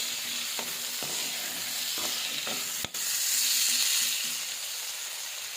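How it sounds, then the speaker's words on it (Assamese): Potatoes fry in a pan with ginger garlic paste, giving a steady close sizzle with a few soft stirring knocks and one sharp scrape partway through, no voices. "এতিয়া অকণমান মই ভাজি ল'ম"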